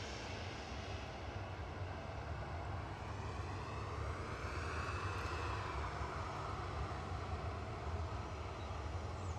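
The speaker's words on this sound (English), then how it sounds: "Ryanair is now lining up." A Ryanair Boeing 737-800 bound for Almeria lines up for departure at Manchester Airport, its jet engines giving a steady, broad roar at moderate distance that swells slightly midway, with no talking.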